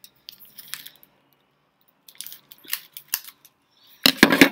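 Scissors cutting open a gift package, with a few scattered snips and crinkles separated by quiet gaps, ending in a louder burst of sharp cuts, close and without talk.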